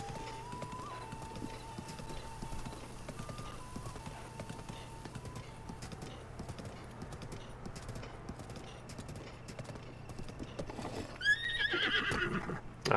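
A horse in Zelda: Breath of the Wild trots along with a steady, fairly quiet clip-clop of hooves over a game soundtrack, and near the end it lets out a loud whinny.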